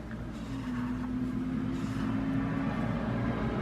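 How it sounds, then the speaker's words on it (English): Big trucks pass on a road near a construction site, giving a steady low rumble and drone with a faint engine tone, heard from a distance indoors at a continuous moderate level. "Sorry if you can hear the big trucks going by."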